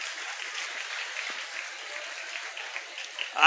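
An audience at a school felicitation ceremony for Class X achievers claps for a teacher, a thin, fairly distant wash of hands clapping that holds steady, ending in a sudden louder burst.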